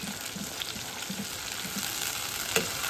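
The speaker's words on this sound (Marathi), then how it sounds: "ही ग्रेव्ही आहे ती तेलामध्ये अशी मस्तपैकी परतून घ्यायची आहे" Thick masala gravy for spicy brinjal curry sautéing in released oil, producing a continuous dense sizzle with soft bubbling and a few light stirring knocks, one clearer tap near the end.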